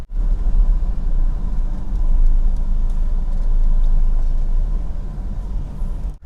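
Nissan Presea R11 1.8 car driving, a steady low road and engine rumble heard from inside the cabin, loud and continuous with no talk.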